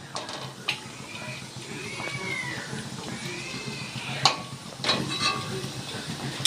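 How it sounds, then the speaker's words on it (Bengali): Egg fritters (egg bora) fry in hot oil with a steady hiss and sizzle, broken by occasional sharp pops and crackles, while a voice speaks faintly in the background. "এইভাবেই আমি সবগুলো ভেজে তুলে নিচ্ছি।"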